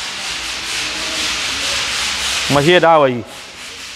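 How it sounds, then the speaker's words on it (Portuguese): Steady, continuous abrasive grinding of a floor sander sanding a floor before painting, with a brief voice speaking near the end. "lixando o piso para pintar"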